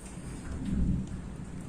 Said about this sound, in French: vous entendez l'orage derrière